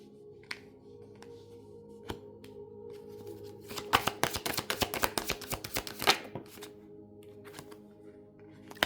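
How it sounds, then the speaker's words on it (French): A deck of tarot-style cards is handled and shuffled at a quiet table: a few isolated taps, then a quick burst of rapid riffling slaps, then several more soft knocks as the cards settle. "je sors les cartes et je vous les décline"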